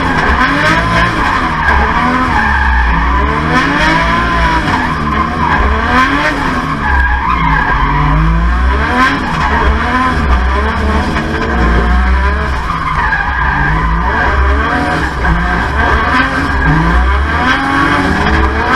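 A Nissan R32 drift car with a 2JZ engine of about 700 horsepower drifts hard, its engine revving and bouncing off the limiter under continuous loud tyre squeal, close and unbroken throughout.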